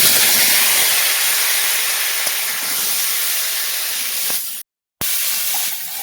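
Potatoes and kohlrabi drop into hot mustard-oil left from browning tilapia, setting off a loud, steady hiss and spray of frying that holds for several seconds, cuts out briefly, then resumes.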